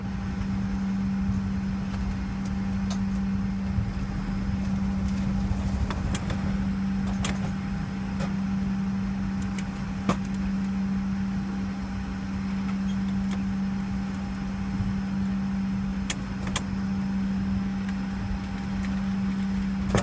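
An American Airlines jet cabin during takeoff, filled with a steady engine drone and a strong low hum, broken by scattered clicks and rattles of the airframe.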